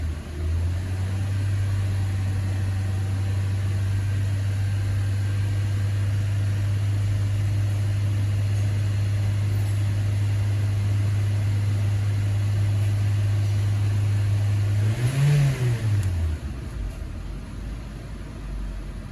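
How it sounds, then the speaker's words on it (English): A 2013 Honda Civic engine with a rough idle holds a steady low drone close by, then gives a single short rev near the end before settling and cutting off. "Just gonna rev it a little bit just to make sure it cleans that extra contamination."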